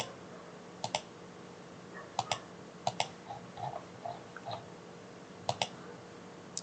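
A computer mouse clicks while drafting in Revit software, giving a handful of sharp close clicks, some in quick doubles, spaced irregularly over a quiet background hum.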